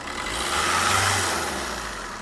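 A used car's engine is revved at a car shop, a steady mid-pitched engine roar that swells slightly and holds for a couple of seconds, fairly close, with no one talking.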